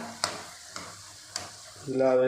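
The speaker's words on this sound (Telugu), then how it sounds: "కాకరకాయలు వేగాల" Bitter gourd pieces frying in a pan, a few sharp clinks of stirring over a low sizzle, with a brief voice at the end.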